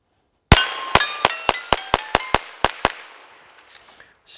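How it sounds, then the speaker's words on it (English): Volquartsen Scorpion X rimfire pistol firing CCI standard ammunition, ten sharp close shots in quick, slightly uneven succession, each a bright crack with a short ringing tail, and faint clinks trailing after the string ends. "And let's just do some shooting here."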